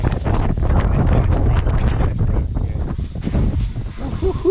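Gusty wind buffets the microphone at a seaside boatyard in Essaouira, Morocco, a loud, continuous roaring rush with uneven surges.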